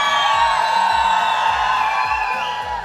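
Audience cheering and whooping together for a group photo at the close of a live show, a loud, sustained crowd roar that fills the whole moment.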